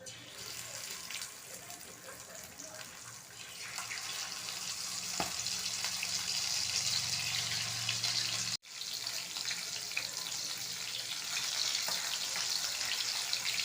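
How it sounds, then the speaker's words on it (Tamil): Sardine fish fry in hot oil, a broad, steady crackling hiss that swells louder partway through and then continues close and unbroken, with a brief cut near the middle. "ஆயில் ஹீட் ஆகிடுச்சு நம்ம மீனை சேர்த்துடலாம்"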